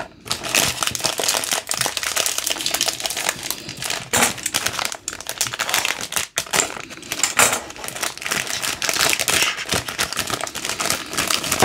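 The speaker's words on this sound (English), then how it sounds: "Hate when I have to cut a box open." Cardboard box for a Beast Kingdom Mini Egg Attack Deadpool figure being cut open, with continuous loud crunching, tearing and crinkling scrapes close up for about twelve seconds, briefly dipping around the middle.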